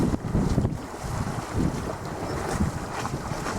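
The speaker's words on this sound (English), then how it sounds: "Proper sailing." A sailboat runs fast through the wind on a passage down to Tollesbury, heavy gusting wind rumble across the microphone mixed with rushing water and waves along the hull, continuous and close.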